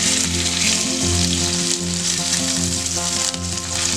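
Boiled potato cubes sizzle in hot oil with crackled cumin seeds, a loud, steady, close frying hiss with faint stirring and no talk.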